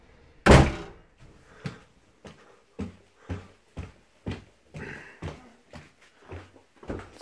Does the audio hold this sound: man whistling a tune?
no